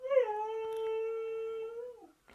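A dog howls once nearby, a single sustained, wavering tone lasting about two seconds that rises slightly at the start and droops at the end, with nothing else around it.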